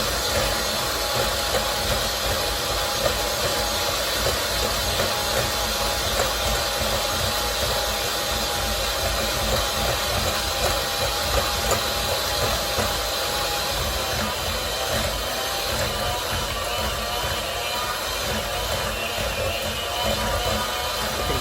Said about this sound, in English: I know the mixer's made to turn on,